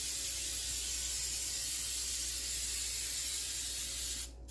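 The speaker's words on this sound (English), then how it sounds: "I need to spray my pan." Cooking spray hisses onto a pan in a steady, continuous close spray lasting about four seconds before cutting off.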